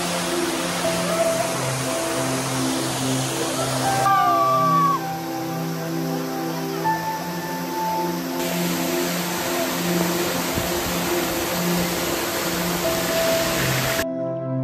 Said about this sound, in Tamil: வந்து நம்ம கூக்கல்ல இருக்க இந்த வாட்டர் ஃபால்ஸ்